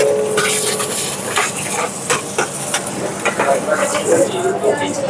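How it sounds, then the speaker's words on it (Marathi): Cumin, chilli, garlic and onion are tempered in hot oil in a restaurant kitchen, giving loud continuous sizzling and hissing with stirring scrapes, while a voice speaks faintly underneath. "जिरं टाकायचं, तडका मिरची, लसण, कांदा टाकायचा"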